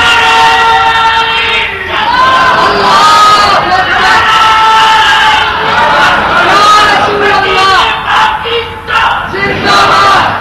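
Crowd at a religious speech loudly chanting slogans in rhythmic unison, with call-and-response bursts that swell and fall; a powerful massed roar of voices filling the space, close and energetic.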